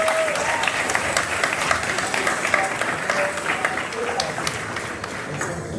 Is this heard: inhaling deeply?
no